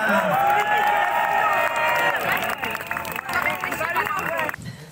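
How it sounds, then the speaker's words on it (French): An audience applauds and cheers for Jacques Cheminade, president of Solidarité et Progrès, at a political gathering. The clapping is dense and steady, with crowd voices mixed in, and it fades near the end. "Je vous prie de faire un tel applaudissement pour Jacques Cheminade"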